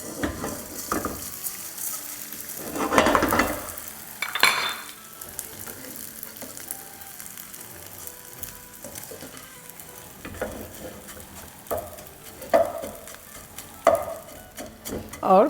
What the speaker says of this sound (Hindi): ये घी हमारा गर्म हो गया है तो आधा हम गोंद और डाल देंगे।